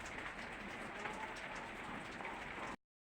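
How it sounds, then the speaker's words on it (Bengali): A light rain falls outdoors in the early morning, a soft, even patter that continues steadily before stopping abruptly near the end. "মিনি বৃষ্টি হচ্ছে, যে বৃষ্টি পড়তেছে।"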